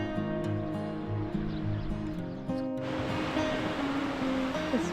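Surf rolls steadily onto Marfells Beach in New Zealand, a continuous wash of breaking waves with a low tonal drone underneath and no voices.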